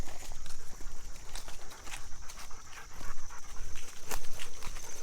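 A dog pants in quick, steady rhythmic breaths close by, loud and continuous outdoors near a fenced dog run, with faint footsteps mixed in.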